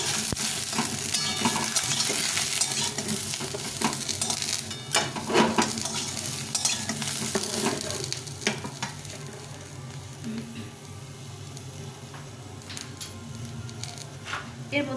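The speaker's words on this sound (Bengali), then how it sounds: "এই বেগুনটা একটু ভাজা ভাজা হয়ে গেছে।" Eggplant fries and sizzles in a pan, with steady crackling and repeated stirring scrapes throughout; louder at first, then easing slightly.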